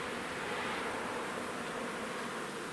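A steady, dense droning hum of many bees buzzing together, continuous and fairly close, with no voices.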